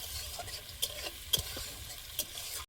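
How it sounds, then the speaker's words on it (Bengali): Tempering spices fry in a pan, with a steady, close sizzle and a few sharp taps and clicks of stirring scattered through it, and no voices. "তেঁতুল দিয়ে এবার ভালোভাবে ফোড়নটা আমি ভেজে নেব।"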